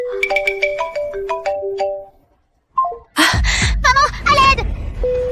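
A phone ringtone plays a quick run of bright electronic chiming notes during a call. It breaks off, and then loud, excited voices take over.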